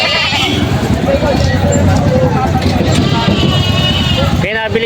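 Goats bleat repeatedly at a livestock market, several cries rising over a busy crowd and passing vehicles while people talk nearby.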